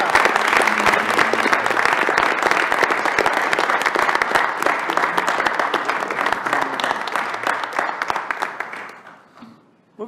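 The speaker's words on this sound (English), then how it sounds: "let's give a great round of applause to our great athletic director." Meeting attendees at a university Board of Regents session clap for the athletic director, a dense, steady round of applause lasting about nine seconds before thinning out and fading to quiet.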